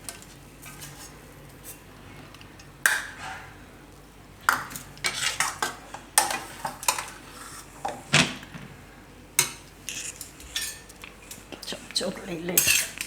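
A metal spoon scrapes and clinks against a pan while cooked cucumber korda is served onto a plate, with a series of sharp, irregular clatters and knocks close by over a quiet background.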